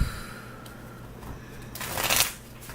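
Tarot cards are shuffled by hand in quick, soft riffling bursts that swell into one louder flurry near the end, close and alone with no talk.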